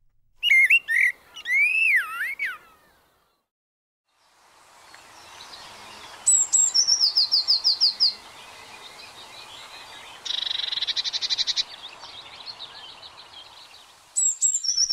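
Blackbird singing outdoors on a summer's morning, with clear fluting whistled phrases near and loud, separated by pauses, and a softer background of other birds between phrases.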